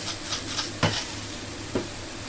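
Beef stir-frying with onions and black pepper in a pan, a low continuous sizzle with two or three brief stirring scrapes, quiet and close, no speech.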